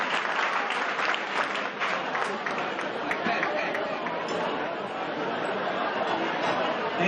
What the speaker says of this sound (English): Can we get a round of applause for all of our sponsors, please?